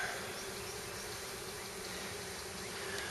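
Honeybees from a swarm fly around outside a hive, giving a steady, thin buzzing hum that holds evenly through the whole stretch with no talk over it.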